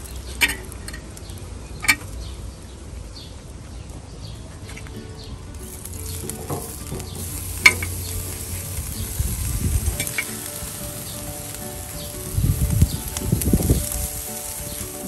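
A king-size beef rib chop frying in a pan sizzles steadily at moderate volume, with a few sharp clinks and stirring scrapes, and louder bursts of sizzling near the end.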